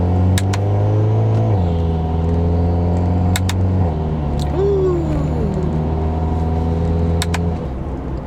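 Modified Hyundai Kona N driving with paddle shifters, engine rumble heard from inside the cabin, with revs dropping in distinct downshift steps and a brief rev blip, steady and fairly loud throughout.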